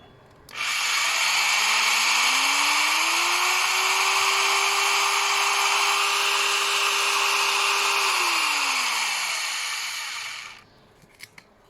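A 500 W impact drill whirs alone, its pitch ramping up, holding steady, then winding down before cutting off; a few faint clicks follow.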